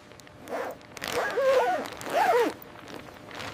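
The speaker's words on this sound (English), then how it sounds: "Checking the zippers now." A zipper is pulled in a few quick strokes, each a short rasping zip, with brief pauses between them.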